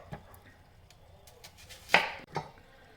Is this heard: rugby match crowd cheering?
no